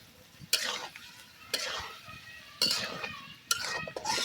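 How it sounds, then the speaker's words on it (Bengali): Chicken pieces with spices sauté in a pot over a clay stove, with four distinct stirring scrapes roughly a second apart over a low steady sizzle. "মাংসটা কষানো হতে থাক।"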